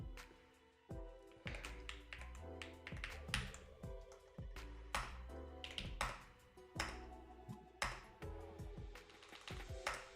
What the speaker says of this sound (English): The echo of your keyboard makes me think that you have an incredibly expensive mechanical keyboard, Will.